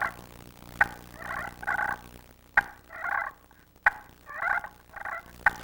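A friction turkey call played with an acrylic striker imitates a hen's morning tree calls, soft clucks and purrs, coming in short raspy bursts separated by sharp clicks and brief pauses.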